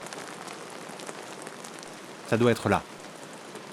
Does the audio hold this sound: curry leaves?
no